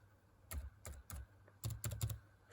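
Quick bursts of keystrokes on a computer keyboard, typed into a Windows search box, come in two short clusters with a brief pause between them, close and fairly quiet.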